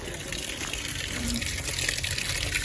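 Water runs steadily from a public drinking-water fountain in Segovia, a continuous splashing gush heard close and fairly loud.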